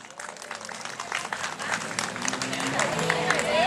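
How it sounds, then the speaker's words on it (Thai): Audience applause greets a guitarist taking the stage at a Thai concert, dense steady clapping that swells slightly over a few seconds, with a voice speaking faintly underneath. "ขอเสียงปรบมือต้อนรับ"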